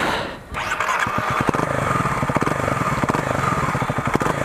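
A Kawasaki KLX 250 motorcycle with an Akrapovic exhaust starts and settles into a loud, rumbling idle with a rapid, throaty pulse, close by.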